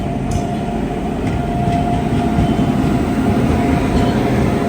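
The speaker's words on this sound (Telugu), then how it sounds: "WAG9 లోకోమోటివ్ తో ICF కోచెస్ తో ఒక ట్రైన్ అయితే వస్తుంది" A train hauled by a WAG9 electric locomotive, pulling ICF coaches out of Renigunta Junction, passes close by. It makes a loud, continuous rolling roar of wheels and coaches with faint rhythmic clatter, and no voices.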